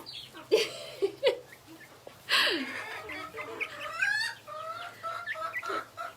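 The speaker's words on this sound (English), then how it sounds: "we love our chooks" Backyard chickens clucking nearby, a few sharp squawks followed by softer, drawn-out murmuring clucks, fairly close and alone without talk.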